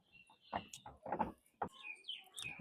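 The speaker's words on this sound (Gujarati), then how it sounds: "બીજા બી બધા બહુ પક્ષીઓ છે અંદર." Birds inside an aviary at Kamati Baug zoo in Vadodara give short, scattered chirps and calls, a few nearby and clear, separated by quiet gaps, with no talking.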